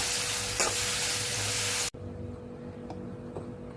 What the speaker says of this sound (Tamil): கொஞ்சம் கொத்தமல்லி கருவேப்பிலை, ஒரு ஸ்பூன் அளவுக்கு பொட்டுக்கடலை போட்டு எல்லாத்தையும் வதக்கி ஆற வச்சு அரைச்சிடுவோம்.